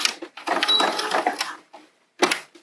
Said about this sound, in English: I'm just going to do a straight stitch here